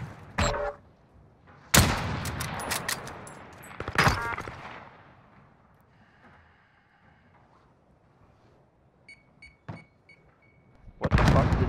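Video game gunfire from an AS VAL rifle and a 725 shotgun in a 1v1 match: several sharp, loud shots, two close together near the start, then quieter gaps and a final burst.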